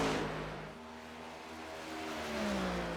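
A cup car engine in the iRacing video game, revving steadily as the throttle is eased on, a close sustained engine drone whose pitch climbs gradually toward the end, with no talk.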